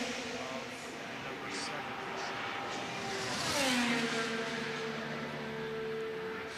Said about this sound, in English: Sounds like Alexander Rossi's car.